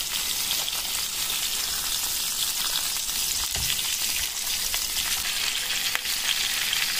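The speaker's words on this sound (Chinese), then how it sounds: "现在把一面煎了大概2分钟左右，翻过来再煎另一面，始终坚持中火煎，" Stuffed green peppers filled with meat pan-fry over medium heat, giving a steady, close sizzle and crackle that holds without a break from start to finish, with no voices.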